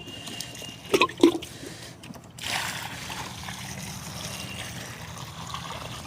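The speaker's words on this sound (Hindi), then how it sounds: "गड्ढे को भरने के बाद हम इसमें अच्छी तरह से पानी डाल देंगे।" Water is poured into a freshly filled planting pit for an apple sapling, a steady outdoor splashing and trickling stream after a few sharper splashes at the start.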